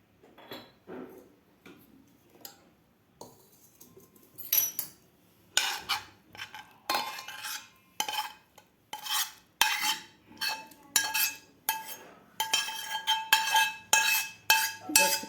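A spoon scrapes mashed matar palak vegetables from a pan into another vessel, producing repeated metallic scraping and clinking strokes that start sparse and quiet, then come in a quick, regular rhythm of sharp, close scrapes.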